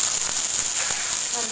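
Shallots (small red onions) sizzle in hot oil in a pan for a Kerala-style fish chili curry. The hiss is steady and close, and it runs alongside a voice talking.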